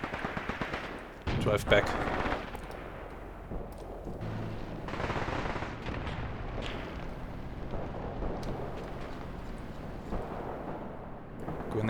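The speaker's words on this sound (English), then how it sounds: "Grenades are already flying." Grenade blasts and gunfire around vehicles in the Graviteam Tactics war game: a loud burst of sharp detonations near the start, then repeated muffled booms and crackling fire under ongoing battle noise, with a voice speaking briefly.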